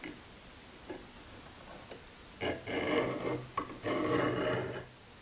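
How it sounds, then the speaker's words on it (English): Compass scribe scratching a 6-inch circle onto the metal faceplate of a 1931 South Bend lathe, a few faint ticks followed by two longer close rasping strokes. "With a scribe on it, and I'm going to scribe a 6-inch circle."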